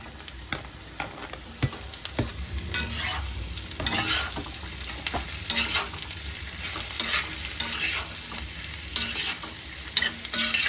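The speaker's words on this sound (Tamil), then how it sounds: "இப்போ இதில் சேப்பங்கிழங்கு குட்டி குட்டியாக கட் பண்ணி வச்சுருக்கேன் இது போட்டுக்கலாம்" Chopped colocasia (taro root) stir-fried in a pan for a vegetarian festive meal, with a steady close sizzle broken by repeated scraping strokes and clinks of the spatula, no voices.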